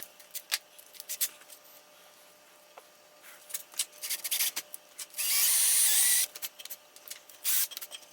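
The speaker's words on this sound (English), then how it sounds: "we'll gradually use a larger size drill bit to hog out that material" Short bursts of scraping and grinding with one sustained whirring stretch of about a second, a drill bit chewing out a wood dowel plug in an antique chair, quiet and close with pauses between.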